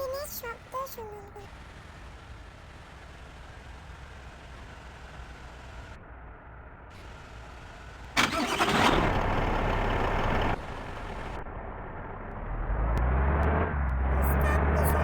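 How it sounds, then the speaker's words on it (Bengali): A tour bus engine runs at idle with a low, steady rumble, then revs louder around the middle before settling back to a heavier drone, with people talking nearby. "বাসের ইঞ্জিনের শব্দ শুনুন।"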